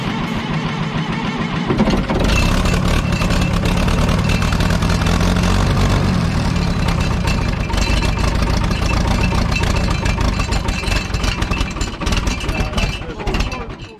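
An old tractor engine runs loud and close with a steady, rough chugging throb throughout, voices briefly heard over it.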